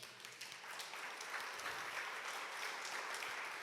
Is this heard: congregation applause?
yes